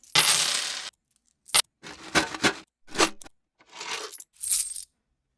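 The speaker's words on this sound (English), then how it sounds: "what if I use this coin sound?" A coin picked as a sample source for a Chinese-style color bass patch, heard as five separate metallic drops and rattles, each a short bright clink with pauses between, close and clear with no talking.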